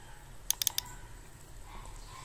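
A computer keyboard being typed on, a quick cluster of four or five crisp keystrokes near the start, then quiet room tone.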